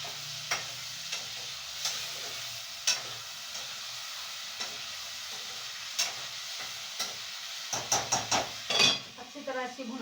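Meat being stirred and fried in a pot with sliced onions: a soft frying hiss under regular clinks of a spoon against the pot, quickening into a cluster of knocks near the end.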